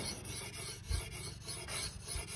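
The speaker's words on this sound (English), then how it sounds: "I'm going to be sharpening this blade" A sharpening stone rasps back and forth across a garden shear blade in smooth, regular strokes, a close, quiet, rhythmic scraping with no speech.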